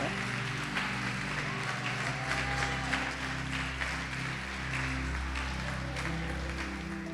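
Church congregation clapping and cheering in praise, a dense steady applause with voices mixed in, under a low musical drone.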